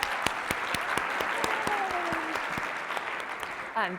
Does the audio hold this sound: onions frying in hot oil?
no